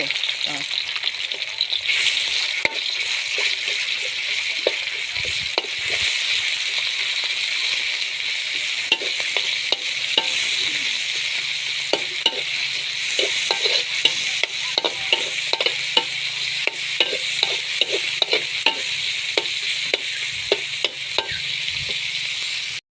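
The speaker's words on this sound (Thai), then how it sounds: "เจียวหอมกระเทียมได้ที่แล้วเราก็เอาหมูลงนะคะ" Minced pork frying in a pan with fried shallots and garlic for a northern Thai chili dip, a steady close sizzle with frequent scraping stirs throughout, no talking.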